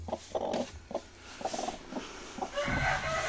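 Chickens inside a cold winter coop cluck in a series of short, close calls, with a louder, fuller burst of clucking near the end.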